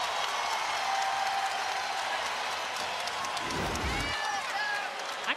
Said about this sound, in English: And listen to this crowd at Maples.